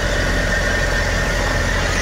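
A Suzuki DA64 engine, suspected of a bad turbo, idles at high RPM with a steady, loud, continuous hum and a faint whine, with no talking over it.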